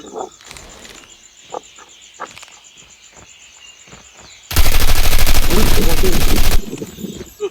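The RUS 79U in Call of Duty Mobile fires a sustained rapid burst of about two seconds, loud and dense, after scattered quieter clicks and taps in the game.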